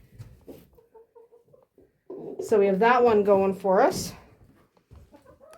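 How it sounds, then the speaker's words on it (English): Chickens on a farm ramp, a brief burst of loud nearby clucking and squawking in the middle, with people talking quietly before and after. "There's like chickens on the ramp."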